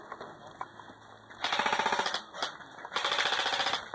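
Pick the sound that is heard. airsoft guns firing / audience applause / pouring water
airsoft guns firing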